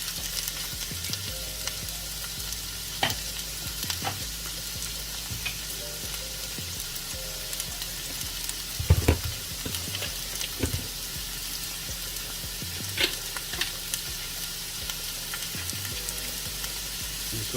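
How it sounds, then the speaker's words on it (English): Onions sautéing in a home kitchen pan for a Seattle-style hot dog, giving a steady, moderate sizzle with scattered pops and crackles and occasional stirring clatter throughout. "That's what we want to hear, that little sizzle."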